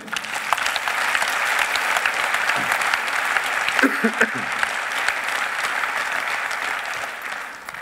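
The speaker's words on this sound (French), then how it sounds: "Merci à eux, nous pouvons les applaudir." Sustained, dense applause fills a large hall at a national young farmers' congress closing speech, loud and steady throughout, with a brief voice surfacing midway.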